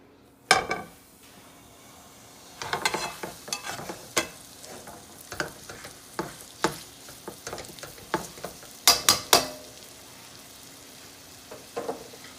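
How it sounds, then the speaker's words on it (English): A pot roast sears in canola oil in a hot pan with a faint steady sizzle, broken by clanks and scrapes of a utensil against the pan, close by. "we're going to do a nice sear on our roast here"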